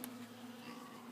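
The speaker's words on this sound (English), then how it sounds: "I've got my corn full of honeybees" Honeybees buzz steadily around corn set out as pig feed, a continuous close insect drone holding one even pitch for the whole moment, with no voices.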